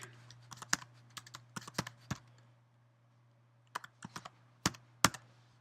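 Close, quiet typing on a computer keyboard: two short bursts of sharp, irregular key clicks separated by a silent pause, with a low steady hum underneath.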